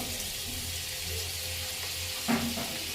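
Butter melting in a pan with a little oil for a Bengali chicken stew, a steady soft sizzle close up, with a brief clink of a utensil near the end.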